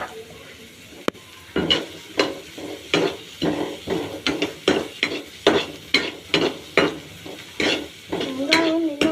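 Onions sauté in a pan until golden brown while a spoon stirs them in steady, regular scraping strokes over a continuous sizzle, with occasional metallic clinks against the pan.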